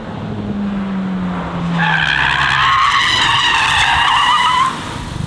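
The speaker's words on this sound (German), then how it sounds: "du kannst ihn wirklich perfekt in den Drift setzen" A Hyundai i20N hatchback drifting, with a loud sustained tire squeal rising over the engine drone for a few seconds, close by and without talk.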